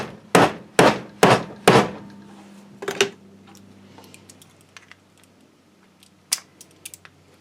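Several sharp metallic hammer strikes drive a part into a shaft on a Farmall Super A tractor engine, in quick succession, then a couple more after a pause, with faint clinks and taps trailing off in a quiet room.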